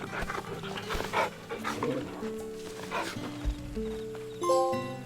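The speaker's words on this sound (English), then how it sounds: "You can pet the dog." Torgal, the dog companion in Final Fantasy XVI, pants in soft repeated breaths over game music and ambient tones, fairly close and steady throughout.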